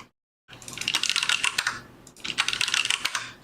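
Fast typing on a computer keyboard comes in two close bursts of crisp, rapid key clicks separated by a brief pause, following a moment of silence at the start.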